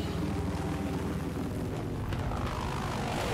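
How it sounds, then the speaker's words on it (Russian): Steady droning aircraft engine noise, likely a helicopter in a Battlefield 4 match on the Siege of Shanghai map, holding at a constant moderate level throughout with no speech over it. "Вертолет идет, вертолет, вертолет."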